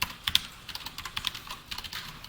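Java code being typed on a computer keyboard: a quick, uneven run of light key clicks, near and fairly soft, with no talking.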